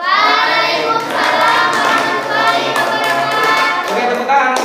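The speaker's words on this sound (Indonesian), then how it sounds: "Oke, tepuk tangan untuk kita semua." A classroom of students claps together, loud, close, dense applause running throughout, with children's voices mixed in.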